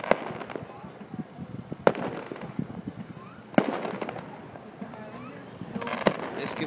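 Fireworks bursting over Dungarvan: several sharp, loud bangs spaced a second or two apart, with crackling and fizzing between them, while people talk nearby.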